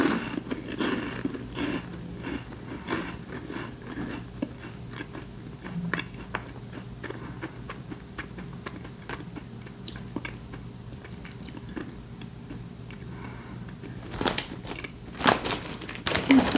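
Crunchy mint chocolate Bananakick snacks being bitten and chewed up close, with irregular crisp crunches and a louder burst of bites near the end, no talk.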